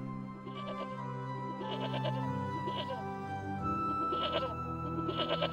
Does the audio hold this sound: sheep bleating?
yes